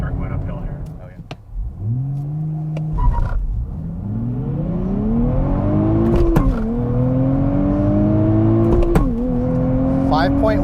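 A 2023 Nissan Z with a manual gearbox accelerates hard from a standstill toward 60 mph, its engine note climbing steeply through the first gear, dropping at the shift, then rising again loud and close from inside the cabin while a person speaks.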